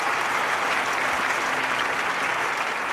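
Sustained applause from a stadium crowd in the London 2012 Olympic weightlifting video game, a steady dense wash of clapping that stays loud and even throughout.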